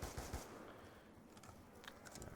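SMR rifle fire in a video game comes as rapid, muffled bursts. The shots are faint and distant under steady background noise, with no talking.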